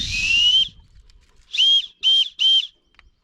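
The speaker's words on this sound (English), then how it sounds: "I don't really know if that sounds like a turbo, but it's definitely a whistle." A whistle noisemaker stuffed into the exhaust of a 460 rwhp Chevrolet Caprice gives a long, high whistling tone, then a pause, then three short sharp whistle bursts in quick succession, loud and close.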